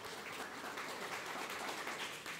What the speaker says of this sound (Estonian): Võime aplausid olla teha.